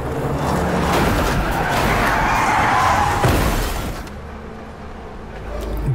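A film car scene: a loud, sustained roar of skidding and crunching impact that cuts off abruptly into a quieter rumbling aftermath, with no voices.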